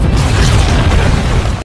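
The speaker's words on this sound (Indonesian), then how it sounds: "Begitu dinamit meledak," A loud, deep dynamite explosion boom that fills the whole clip with a dense, rumbling roar, then cuts off abruptly.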